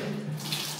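Water gushing steadily from a leaking pipe with a hole in it, a continuous close rushing splash that holds an even loudness throughout, with no voices.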